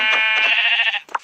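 A sheep bleating in the Minecraft video game, one loud, close, wavering bleat that lasts about a second and ends with a short soft thump.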